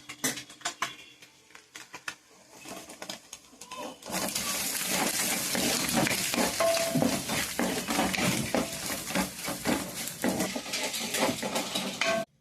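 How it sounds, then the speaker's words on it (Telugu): Garam masala and ginger-garlic paste frying in a pan for egg fried rice, with a steady loud sizzle that starts abruptly and continues, scraped and stirred with a utensil clinking against the metal. "అది పచ్చి వాసన పోయేదాకా వేగాల్సింది గరం మసాలా అల్లం వెల్లుల్లి పేస్ట్ అయిపోయింది గరం మసాలా వేసుకుంది"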